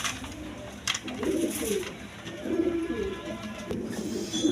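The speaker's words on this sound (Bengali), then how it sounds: "দর্শক এখানে একটা নর কবুতর আছে" Pigeons at a pigeon seller's, including a male bird, coo in repeated low throaty bursts, fairly close and clear over faint background noise.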